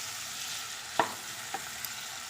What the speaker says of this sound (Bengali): এবার ভালো করে ঝিঙে আলু সব সবজিগুলোকে কষে নেব।